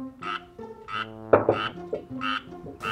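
Frogs croaking in the rainy season: a chorus of repeated, resonant croaks in short bursts, fairly close and clear, with no other sounds.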